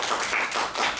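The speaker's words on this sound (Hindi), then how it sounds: "जोरदार ताली।" Brief burst of dense audience clapping welcoming a lecturer at an academic talk, steady and fairly loud for about a second with no voices over it.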